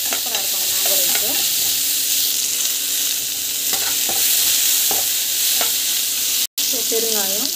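Onions and curry leaves sauté in a pan for mango rice, giving a steady, close sizzle with repeated stirring and scraping strokes, with no talk.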